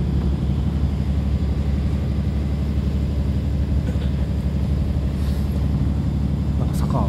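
A diesel train engine drones loudly and steadily as it labours up a steep gradient, heard from inside the carriage with a constant low rumble and occasional faint voices.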